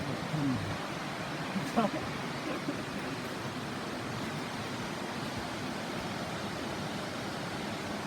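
Steady rushing water of a waterfall in natural forest scenery in Laos, a constant broadband roar at moderate distance with no breaks, a brief murmur of voices near the start.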